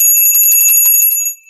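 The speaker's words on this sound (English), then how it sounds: "I got to ring the bell" A small bell rung repeatedly, bright metallic tones ringing out clearly and close for a second or so, then fading away.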